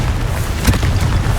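A Confringo explosive spell cast in the video game Hogwarts Legacy gives a loud, sustained boom with a heavy low rumble and a brief burst in the middle, with no talk over it.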